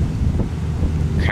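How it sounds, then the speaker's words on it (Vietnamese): A loud boat engine roars steadily and close, with strong wind buffeting the microphone and water noise beneath, and no clear talk. "Cái tiếng động cơ mình nghe như là một cái máy bay phản lực vậy."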